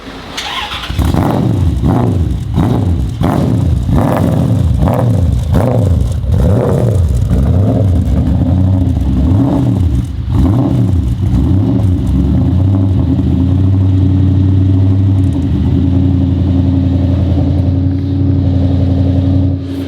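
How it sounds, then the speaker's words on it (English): A Toyota 1UZ V8 engine in a Nissan S14 cranks and fires up, then revs repeatedly in sharp rising and falling bursts before settling into a loud, steady idle close by. "it is powered by a V8, a 1UZ V8"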